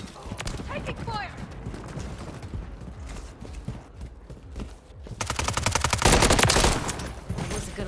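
Call of Duty gunfire, rapid automatic bursts that swell louder toward the end, mixed with in-game voice callouts and player speech.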